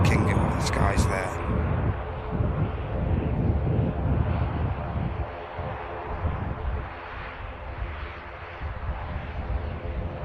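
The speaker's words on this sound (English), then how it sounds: "Getting itself established with runway 23 right now, the biggest passenger aircraft in the world. Emirates flight EK-17 from Dubai." An Emirates Airbus A380 from Dubai, the world's largest passenger jet, roars steadily on approach to runway 23 at Manchester Airport. Wind buffets the microphone, and a voice talks over the engines.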